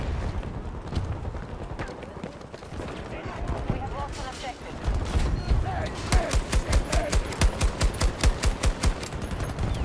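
Rapid automatic gunfire in Battlefield 2042 Breakthrough mode, a steady stream of close, loud shots building in the second half over a busy battle background with scattered explosions.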